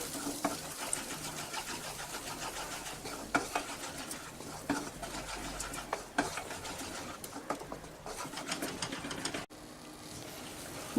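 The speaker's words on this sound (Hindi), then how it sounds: "मिक्स करेंगे अच्छे से और इसे हमें अच्छे से भूनना है 4 से 5 मिनट के लिए," Green pea paste roasts in ghee over a low flame, with a soft sizzle under repeated scraping and stirring strokes in a rhythmic, close-up pattern, without speech.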